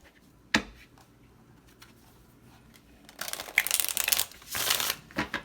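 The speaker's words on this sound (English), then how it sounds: "One more shuffle." Tarot cards shuffled in bursts of crisp riffling and rustling, a sharp tap near the start, then two louder, sustained shuffles close by with no talking.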